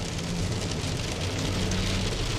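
Steady heavy rain falls in the dark during nighttime tornado coverage, a dense, even hiss of drops on surfaces with a low rumble underneath, loud and close with no break.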